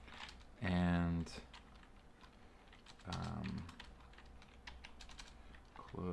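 Someone types on a computer keyboard while building a web app. Two dense bursts of close key clicks are separated by quieter, sparser tapping.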